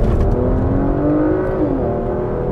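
2021 Porsche Macan Turbo accelerating from 30 to 60 mph in second gear, a loud, close engine drone rising steadily in pitch, then easing off near the end, heard alone without talk.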